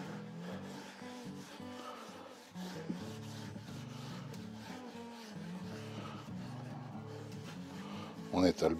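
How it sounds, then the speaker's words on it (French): A cloth rubs oil across the flat surface of a hand plane during a French polishing finish on pink ivory wood, giving a soft, continuous, faint scrubbing sound. "On étale bien l'huile."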